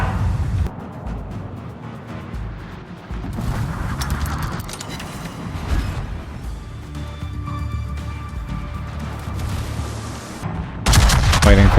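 Secondary battery guns of the warship Ipiranga firing in a naval combat video game: loud, dense volleys of repeated gun bursts rolling on continuously, ending in a heavier close blast.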